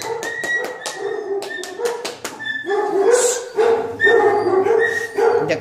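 Dogs at an animal shelter in an old military complex bark, yip and whimper at once, a restless chorus of sharp close barks mixed with high crying whines that continues throughout.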